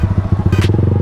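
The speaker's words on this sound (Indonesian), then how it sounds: "ya knalpot kita aja ribut." A loud, rough motorcycle exhaust with a harsh, noisy note pulses steadily and rapidly in close range, with no talking over it.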